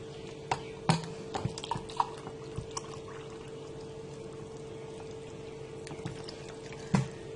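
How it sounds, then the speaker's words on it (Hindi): Water poured into about five spoons of cornflour in a bowl for a chicken corn soup, heard as faint trickling with a few soft clinks and taps from mixing, quiet and close, with no talking. "अब इसमें मैं पानी डाल के इसको मिक्स कर लेती हूँ"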